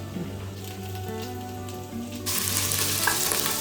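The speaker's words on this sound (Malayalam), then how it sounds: "പച്ചമുളക് ഇട്ടു, സോട്ട് ചെയ്തു" Crushed ginger, garlic and green chili sauté in a pan with a continuous sizzle that suddenly swells louder and brighter partway through, close and steady, with no voices.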